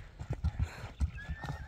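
A young Karabair and European crossbred horse moves nearby with a few uneven hoof thuds and snorts, while a thin high whine runs faintly underneath.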